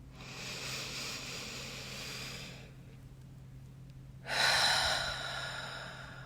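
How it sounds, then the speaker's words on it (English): A single big, deep breath drawn in and let out, a broad airy rush with a soft pause in the middle before a louder exhale, close and alone without talk. "I'm going to take a big breath."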